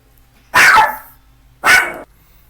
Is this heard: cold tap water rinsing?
no